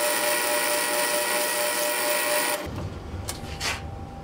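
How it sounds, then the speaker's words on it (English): A hand file breaks the corner of a spinning steel workpiece on a South Bend Model A lathe, a loud steady rasping whine over motor hum that stops abruptly partway through, leaving a few faint clicks and knocks. "Now I'm just going to use a file to break this corner here."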